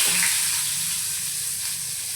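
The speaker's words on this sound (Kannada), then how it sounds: "ಸ್ವಲ್ಪ ಜೀರಿಗೆ ಹಾಕ್ಕೊಂಡು ಒಂದೇ ಒಂದು ಈರುಳ್ಳಿ ಹಾಕ್ತೀನಿ" Onion added with cumin seeds, cinnamon, cloves and a bay leaf into hot oil, a bright, dense hissing sizzle that fades slightly, close and with no talk.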